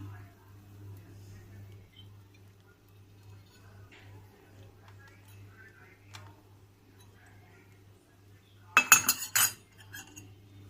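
An egg goes onto a dosa cooking on a pan in a home kitchen: a short burst of clattering taps near the end, after a long stretch of steady low hum.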